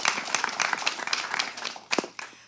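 Scattered, moderately quiet clapping from a conference audience for a wellness and cannabis industry panel, uneven and thinning toward the end with a few louder individual claps.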